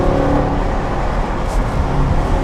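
A BMW M6 1/100-scale car is driven hard on budget tires, its steady whirring drive noise continuous and fairly loud throughout, with no speech.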